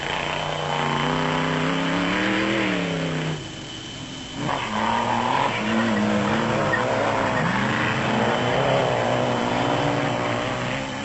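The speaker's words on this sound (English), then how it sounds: "It's extremely difficult to drive these vehicles through the narrow confines of the sugarcane at speed" An off-road race vehicle, suffering a broken steering bush, roars at speed through narrow sugarcane during a 1996 Sugarbelt off-road race in South Africa, its engine note rising and falling loudly and continuously, dipping briefly midway.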